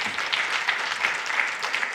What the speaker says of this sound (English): I guess one more round of applause for Dr.